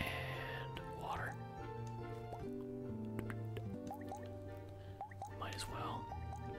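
Watering seeds with a watering can in a cozy farming video game gives soft droplets and liquid trickles over gentle background music, with speech heard around them.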